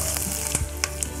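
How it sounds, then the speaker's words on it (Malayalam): Pepper, cumin and garlic sizzle in hot oil in a pan, giving a close, steady crackling fry with small pops, and no voices are heard over it. "ഇപ്പം എണ്ണ ചൂടായിട്ടുണ്ട്. ഞാൻ അതിലേക്ക് കുരുമുളക് ചേർത്ത് കൊടുക്കുകയാണ്."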